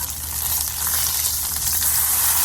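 A smash burger sizzles loudly on a charcoal and wood-fired griddle as it is flipped and scraped, a steady, close frying hiss with scraping texture and no talk.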